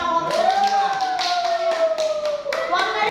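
A classroom of people claps briefly, the applause mixed with children's voices and a high tone running underneath.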